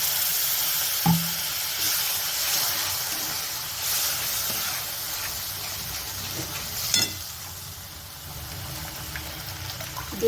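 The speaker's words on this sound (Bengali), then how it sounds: "এবার জল দিয়ে দিই।" Water poured into a pan of hot gravy seasoned with garam masala for moong dal pakora curry, a steady broadband sizzle and splash with a couple of short clinks, no talk.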